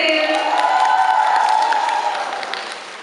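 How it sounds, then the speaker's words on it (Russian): An audience breaks into applause and cheering for a dance cover group performance, a dense crowd wash with scattered whoops that stays loud then gradually fades. "Аплодисменты."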